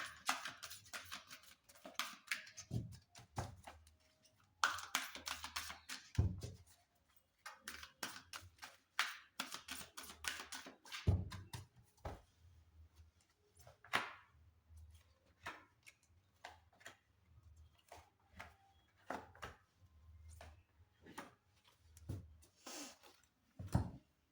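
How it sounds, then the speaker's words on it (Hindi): Tarot cards being shuffled by hand, a dense run of quick papery clicks and riffles in uneven bursts, close and fairly quiet, with no talking. "आइए हम इसको शफल करते हैं और इसमें से निकालेंगे 5 कार्ड्स।"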